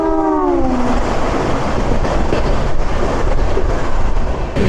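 Gaya Vande Bharat Express number 22303 passing close by, a loud continuous rush of rolling wheels and wind, opening with a short horn blast that fades into steady rail rumble throughout.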